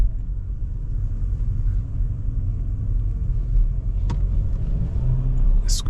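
Car driving through London at night, a steady low road and engine rumble inside the cabin, fairly quiet and even, with a brief faint click near the end.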